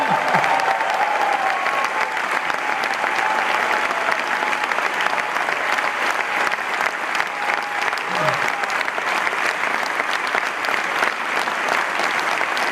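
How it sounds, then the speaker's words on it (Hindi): Audience applause for Kiran at an Amway Diamond Celebration, a dense, loud, steady wash of clapping from a large crowd lasting the whole stretch without letup. "जोरदार तालियां किरण के लिए"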